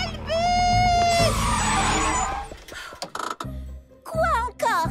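Loud rushing noise with a high squeal of braking tires that fades, followed by thuds and shouted voices in a busy scene.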